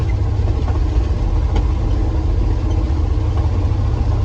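A Ford F250 High Boy carrying about 1.5 cords of firewood cruises in third gear down a gentle slope, its engine a steady low drone heard from inside the cab.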